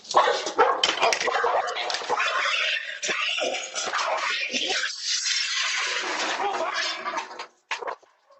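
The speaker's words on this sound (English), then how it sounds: "when you hear the dog yelping in pain" Dog yelping and whimpering in pain on a porch, caught by a doorbell camera during a police encounter, with sharp repeated yelps running loud and near through most of the clip before trailing off into brief cries.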